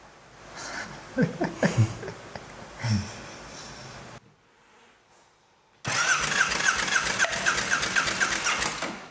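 A motorcycle engine, just repaired after a bad spark plug, cranks and sputters briefly, goes quiet, then fires up and runs loudly with a steady, throbbing idle.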